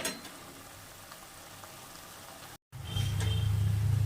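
Spiced spinach cooking in a pan over a medium-to-high gas flame, a steady sizzle and bubbling that cuts out briefly, then returns louder with a strong low hiss as it is stirred.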